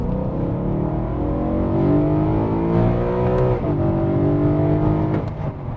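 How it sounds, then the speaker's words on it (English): The 4-litre naturally aspirated V8 of a BMW E92 M3 revs up and down in repeated rising and falling sweeps. The loud, close engine note is heard alone with no talking. "I absolutely love the engine that is in this car. 4-litre naturally aspirated V8."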